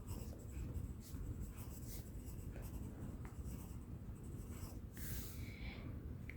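An HB pencil shading on paper makes soft, steady scratchy strokes, close and quiet, in a continuous rhythm with short pauses.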